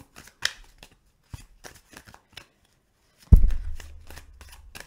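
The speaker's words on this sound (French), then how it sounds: "nous allons couvrir avec euh, une carte du tarot de la sorcière" Witch tarot cards handled on a table: faint soft taps and card slides spread through the clip, then one louder thump with a brief low rumble near the end.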